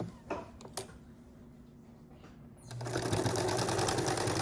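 A sewing machine starts up and runs in a steady rapid whir of stitching on a fabric face mask, preceded by a few soft clicks and handling taps in a quiet room.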